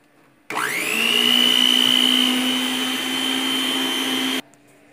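Electric mixer beating cassava cake batter runs steadily for about four seconds, a loud sustained motor whine with strong tonal hum that starts abruptly, rises briefly in pitch, then holds before cutting off.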